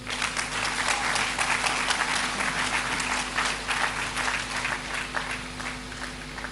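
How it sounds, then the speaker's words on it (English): An audience at a matriculation and onboarding ceremony for the Adwumawura Programme applauds the Minister for Food and Agriculture, with steady, dense clapping from a large crowd filling the room for several seconds. "one more round of applause for the Minister for Food and Agriculture, the Honorable Eric Opoku"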